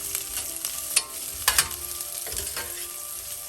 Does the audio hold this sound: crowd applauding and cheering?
no